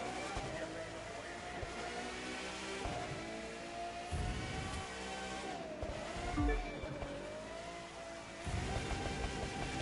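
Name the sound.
car engine racing in video game The Crew 2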